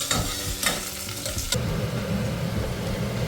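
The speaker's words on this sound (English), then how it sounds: "we want to keep stirring the onion so that it evenly cooks" Half-golden onions sizzle in hot oil for Fiji-style tadka dhal while a spoon scrapes and stirs them in quick bursts, the frying hiss carrying on steadily and loud nearby, with no speech.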